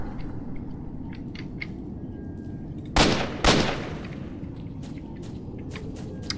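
Two sharp weapon shots in S.T.A.L.K.E.R., close and loud, a half-second apart, over a constant low game-world rumble with faint clicks afterwards.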